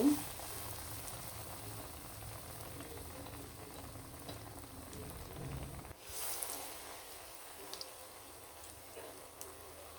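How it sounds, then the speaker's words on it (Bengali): Potato chops dipped in gram-flour batter fry in hot oil, giving a faint, steady bubbling sizzle. The tone shifts partway through as the frying continues quietly. "এইভাবে ভেসনে ডুবিয়ে কিন্তু এভাবে তেলে ছেড়ে দিব"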